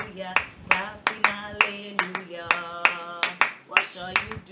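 Children, toddlers up to about six years old, clap in time to a praise song, sharp hand claps falling in a steady beat over sung melody.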